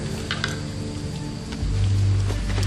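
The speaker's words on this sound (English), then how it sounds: "rain's getting in. It's really coming down out there" Heavy rain pouring down outside, heard from indoors as a dense, steady hiss and patter with a deep low rumble swelling partway through, and no talking.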